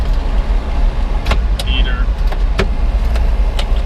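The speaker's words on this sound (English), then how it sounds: "You can hear the heater." A steady broadband heater fan whoosh fills the cab of a 1979 Datsun King Cab 620 pickup, with a low rumble underneath and a few faint clicks and small mechanical sounds.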